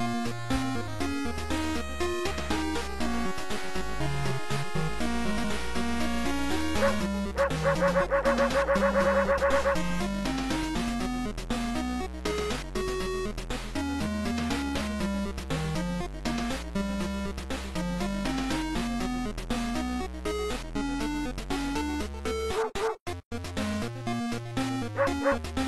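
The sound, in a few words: dog in a video game shop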